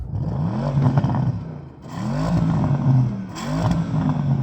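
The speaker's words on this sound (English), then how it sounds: "Go on, rev up the Porsche." A Porsche Panamera Turbo engine revving hard three times in a row, each rise climbing in pitch to a soft limiter and falling back, loud and close with no voices.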